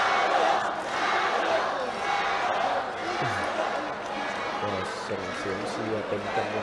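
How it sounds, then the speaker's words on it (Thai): Loud arena crowd at a China versus Uzbekistan boxing bout, a dense steady roar of cheering and shouting throughout, with a commentator's voice running over it. "แหมเสียงเชียร์ก็ฮึ่มเลยครับ"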